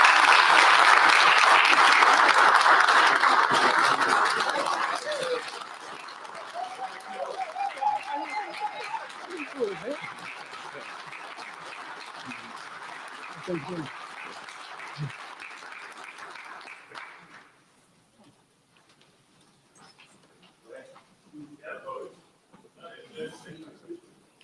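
Applause for a Southern University hall of fame recipient at a board meeting swells loud and dense at first, then thins into scattered clapping and fades, with some talking near the end.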